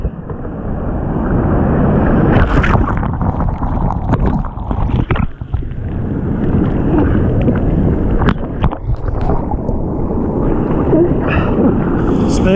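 Heavy ocean surf breaking around a fishing kayak during a surf launch in two-metre swell, a loud, continuous rushing roar of churning water and wind buffeting, swelling and easing without a break.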